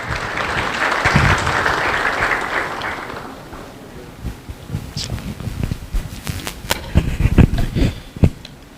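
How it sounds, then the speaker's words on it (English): An audience at an AI summit applauds warmly for a few seconds, and then the clapping fades into scattered footsteps and thumps as someone walks up. "With a round of applause, ladies and gentlemen."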